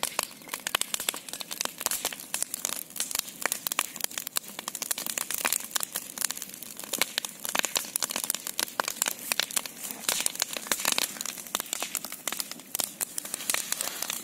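A large outdoor bonfire burning fiercely, with dense, continuous crackling and popping of burning wood throughout, loud and close, with no clear voices over it.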